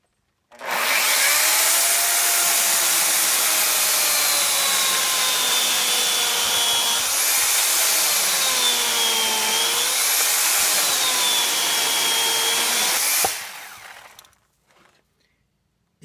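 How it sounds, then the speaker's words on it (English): A saw on a T-REX rotary table square-cuts an 8x8 timber for post-and-beam joinery. A loud, continuous whining cut with shifting pitch runs for about thirteen seconds, then stops abruptly and leaves near silence. "we're going to square cut this timber. Now this is an 8x8 timber."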